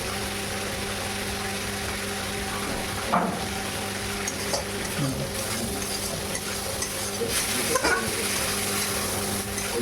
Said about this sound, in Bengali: চিংড়ি মাছটা আমি খুব বেশি ভাজবো না কেননা চিংড়ি মাছ বেশি ভাজলে চিট হয়ে যায় হালকা করে একটু ভেজে নেবো